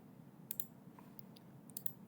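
Two pairs of crisp computer mouse clicks, close and dry, over a quiet room hum while setting up a Siemens SIMATIC Manager PLC program, with a faint electronic chirp between them.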